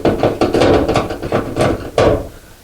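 A screw is driven into a GE dryer door, giving a quick run of sharp, close-up rattling taps and grinding clicks in irregular bursts over a couple of seconds.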